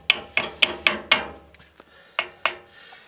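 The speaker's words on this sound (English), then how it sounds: "And then pound that down." A hammer pounds a leg of a cement mixer tight during assembly, landing seven sharp, close metallic blows: five quick strikes in a row, a short pause, then two more.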